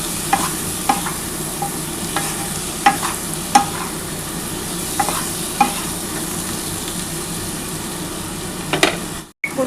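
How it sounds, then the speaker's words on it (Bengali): Sliced potatoes and onions fry with a steady, dense sizzle in a pan, broken by several sharp scrapes and clinks as a utensil stirs them, all without talking, before a brief drop near the end. "আমার আলুটা সেদ্ধ আলুর সাথে পেঁয়াজটা খুব ভালোভাবে ভাজা হয়ে গেছে"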